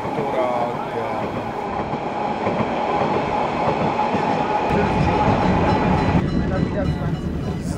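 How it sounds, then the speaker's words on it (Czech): A narrow-gauge steam train on the Molli railway at Bad Doberan, Germany, rumbles past a railcar in a steady, loud roll of wheels and clattering carriages that continues throughout. "Křižování parního vláčku s motorákem."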